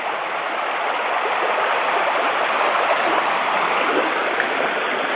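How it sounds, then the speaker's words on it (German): A stream of water flows down stone steps beside a reservoir path, a steady, close, full rushing splash without pause and without voices. "hier kommt jetzt dieser zweite Wasserlauf daneben, was ich sagte, mit diesen einzelnen Abstufungen."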